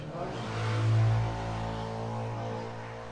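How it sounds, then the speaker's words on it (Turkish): A motor vehicle engine outside, drifting in through open doors and windows on a summer day, a low steady rumble that swells briefly and then holds at a moderate, distant level. "artık yaz geldi ve kapılarımız camlarımız açık. Motor sesini duydunuz."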